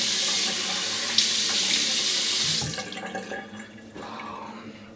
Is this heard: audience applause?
no